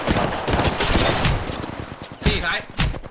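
Rapid bursts of automatic gunfire from an Apex Legends match ring out loud and close, with a sharp cluster of shots near the end and a voice chattering briefly underneath.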